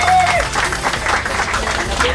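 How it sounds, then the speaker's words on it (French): Crowd applause at a foundation event, a brief burst of clapping mixed with overlapping chatter and voices. "Applaudissements."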